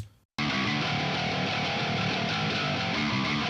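After a brief quiet moment, a loud, crunchy overdriven bass reamped through a guitar tube amp and cab kicks in and plays a continuous gritty riff to the end.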